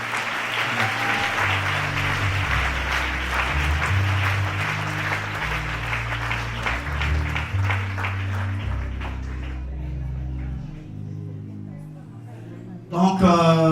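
A church congregation applauds together in a sustained, dense burst of clapping over a low background of music, the clapping thinning out toward the end before a voice briefly breaks in.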